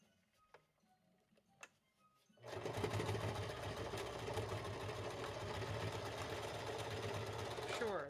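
A sewing machine starts up after a couple of seconds of quiet with faint clicks, then runs in a steady fast mechanical whir stitching a knot, close and continuous until it stops at the end.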